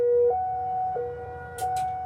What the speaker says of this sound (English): every month we have a Cold War era siren that blares.